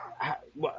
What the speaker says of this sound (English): Let me apologize for my dogs in the background.